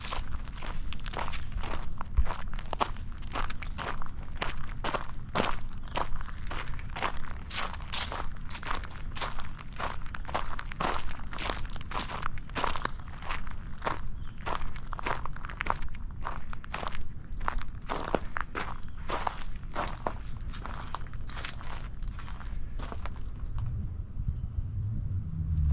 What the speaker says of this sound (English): You can probably hear my footsteps walking on these rocks.